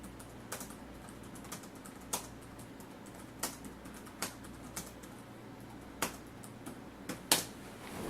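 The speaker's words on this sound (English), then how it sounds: "we'll go ahead and type something" Sparse keystrokes tap on a Dell Inspiron E1505 laptop keyboard, a few separate clicks spaced irregularly over a quiet background hum.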